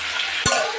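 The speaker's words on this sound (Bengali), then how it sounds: "যতক্ষণে মিষ্টি টমেটোটা ভাজা হবে" Tomatoes fry in a pan, giving a brief sizzling hiss with a single quick scrape of stirring.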